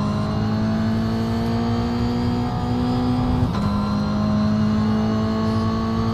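Toyota GR86 engine in the iRacing simulator at Spa drones at steady high revs, loud and continuous, with a brief dip and gear change midway before holding its pitch again.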